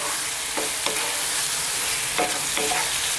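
Tofu pieces in a spiced Indian vegan curry are tossed and stirred in a hot pan, a soft sizzle running throughout while a few sharp scrapes of the utensil break through.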